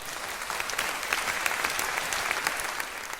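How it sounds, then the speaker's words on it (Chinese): A crowd at an auction claps steadily after a winning bid, dense applause at moderate volume, continuous throughout with no voices. "大家鼓掌"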